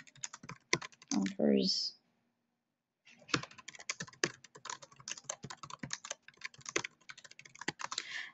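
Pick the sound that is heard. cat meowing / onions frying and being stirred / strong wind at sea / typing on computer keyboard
typing on computer keyboard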